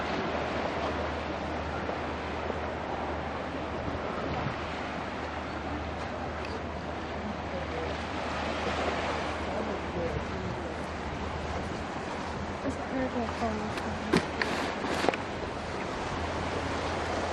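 Ocean waves wash steadily along a natural dirt seaside trail in Donghae, a continuous broad surf roar mixed with wind noise on the microphone, and a few faint clicks near the end.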